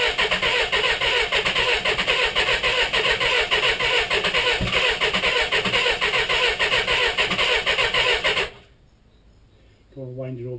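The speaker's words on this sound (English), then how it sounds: "Don't want to wind it over too much, we'll just ruin the starter." A Suzuki GSXR streetfighter motorcycle engine being cranked by its starter motor makes a loud, continuous whirring grind for about eight seconds, then stops briefly before cranking starts again.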